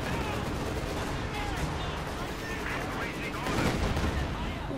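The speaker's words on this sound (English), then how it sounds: "Katyusha blasting away. First barrage there" Katyusha rocket barrage in Company of Heroes 2, a steady dense stream of rapid launches and blasts under continuous heavy battle noise, moderately loud and unbroken.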